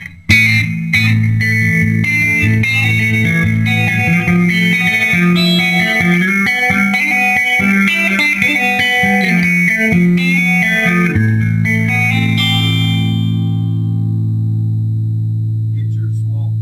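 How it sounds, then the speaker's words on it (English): Electric guitar played through a 1977 Quad Reverb amp with heavy reverb, sustained chords and notes ringing steadily and loud for about twelve seconds, then a long reverb tail fading out. "If you like a heavy reverb, you know, you can always turn it up a little bit."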